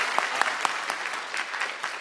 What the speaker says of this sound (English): We can give them all a round of applause as we keep on going.